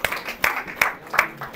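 Congregation clapping together during a Palm Sunday church service, a few loud sharp bursts of hand claps recurring roughly every 0.4 seconds, spaced and rhythmic rather than a continuous roar.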